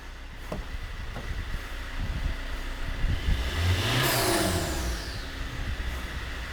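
An auction van engine with a blown-off turbo pipe idles roughly, then is revved up in one strong, loud swell that falls away, close by in a garage.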